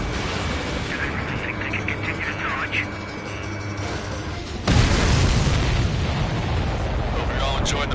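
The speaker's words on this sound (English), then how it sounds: "Did you see that explosion?" A supply ship blowing up in the video game Ace Combat 7: a sudden heavy boom cuts in partway through, followed by a sustained roaring rumble over steady engine drone.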